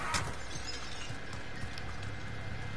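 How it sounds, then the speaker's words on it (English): Glass shatters at the start in Call of Duty: Warzone, a sharp bright crash followed by scattered tinkling fragments and faint game ambience during the Halloween Haunting of Verdansk mode. "I heard the glass break."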